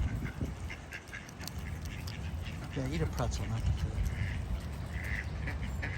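A pet goose raised from a feed store gives a few short honking calls, partly masked by nearby people talking over steady background noise.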